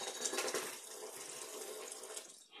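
Water running steadily into a container being filled with ice water, a continuous hissing splash that fades at the end.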